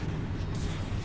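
Gunfire from the sci-fi horror game Dead Space 2, a short dense burst of rapid booming shots filling the moment, loud and close with heavy low-end thuds.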